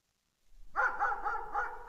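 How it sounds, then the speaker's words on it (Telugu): A dog sound effect: after brief silence, a dog gives a quick series of about four close, clear barks in a steady rhythm. "డాగ్ సౌండ్ అని ఇచ్చేయండి."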